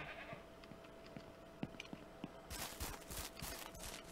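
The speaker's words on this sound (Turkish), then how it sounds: "Keçilerim benim." Goats in the farm video game Ranch Simulator bleat faintly in the distance, a few thin calls over a soft rustling ambience that turns louder and noisier near the end.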